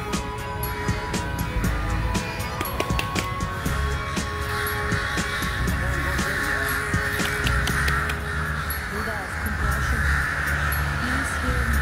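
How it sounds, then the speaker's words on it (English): Loud, frantic cawing from many crows fills the air continuously near a palace and temple in Bangkok, with overlapping calls near and far and a person talking underneath. "The crows are going crazy."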